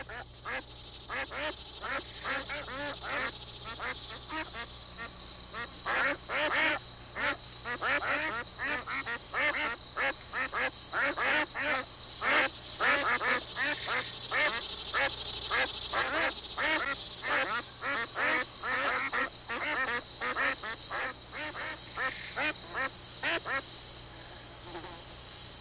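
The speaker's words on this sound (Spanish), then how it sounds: "como estos patos canadienses que, escapando del frío invernal, encuentran refugio y alimento en las aguas" Canadian ducks, migratory waterbirds wintering on open water, quack in a busy, continuous chorus of many overlapping calls at close to moderate distance, with a steady high insect-like hum running underneath.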